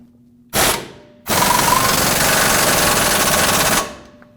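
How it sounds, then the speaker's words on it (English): Impact wrench tightening a nut onto the rear lower control arm bolt of a 2009-2010 Dodge Ram 1500, a short burst and then a sustained loud rattling hammer of about two and a half seconds, close up. "Let's put the nut on and tighten it up."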